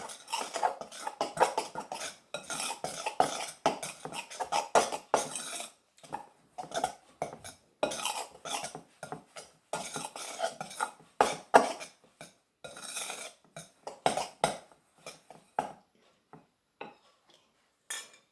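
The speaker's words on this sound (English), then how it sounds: "with the knife, just an ordinary butter knife" An ordinary butter knife cutting through short crust pastry dough in a bowl, rapid repeated clicks and taps of metal on the bowl for a long stretch, close and busy, with no voices.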